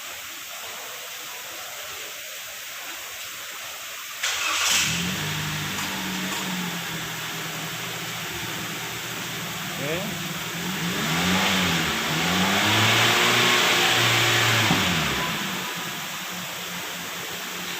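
A car engine cranks and catches with a sudden roar, then settles into a steady idle before rising and falling through several revs. A voice speaks briefly at the start.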